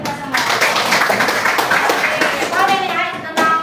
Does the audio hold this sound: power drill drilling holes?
no